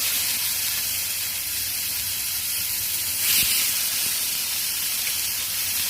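A pork chop coated in corn flour sizzles in melted butter in a pan, a steady close hiss with one brief louder spatter partway through; no one talks.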